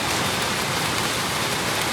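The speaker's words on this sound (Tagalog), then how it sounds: "ang lakas ng ulan dito sa Fairmont Street" Heavy rain pours down on Fairmont Street, a dense, loud, unbroken hiss of water striking the pavement and nearby surfaces with no voices.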